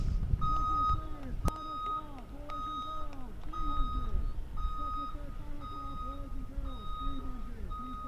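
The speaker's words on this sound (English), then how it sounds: "If you hear that beeping in the background, that's the bus backing up." Steady, evenly spaced electronic beeps from a bus reversing repeat in the background at a varsity track meet, with outdoor noise and a voice talking over them.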